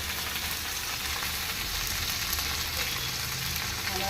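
Vadiyalu fry in a pan of hot oil with a quiet, even sizzle. The hiss holds steady and close throughout, and nobody speaks.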